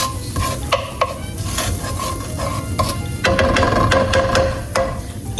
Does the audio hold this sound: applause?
no